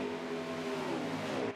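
Xfinity race car engine in a sim racing game at Atlanta, a steady loud droning whine held at high revs, close and continuous, briefly dropping at the very end.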